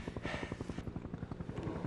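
A helicopter's rotor thumps in a fast, steady chop, fairly close and continuous throughout.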